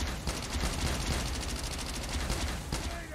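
Rapid bursts of Type-25 rifle fire from Call of Duty Mobile, played in Team Deathmatch on the Kill House map, crack out as a loud, dense rattle of shots with a booming echo, heard with no voices over it.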